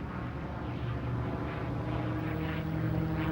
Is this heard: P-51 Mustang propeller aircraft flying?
yes